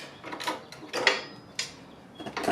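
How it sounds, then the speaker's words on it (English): Brake linkage pin being pulled out on a Harley-Davidson Dyna, giving a few close metallic clicks and clunks in short bursts with a faint ringing tone, heard alone. "So we're going to pull this pin and see if we can get the brake linkage out real quick."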